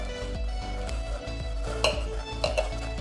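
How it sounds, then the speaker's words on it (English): A spoon stirs and scrapes cucumber and apple juice pulp around a metal strainer set over a bowl, giving soft repeated scraping and light clinks in a steady circular rhythm, close and alone. "with a spoon you are going to just strain it by just"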